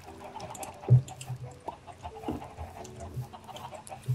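Chickens clucking in a modded Minecraft survival game, a few short fowl calls scattered over a faint, busy game background, with one louder cluck standing out near the start.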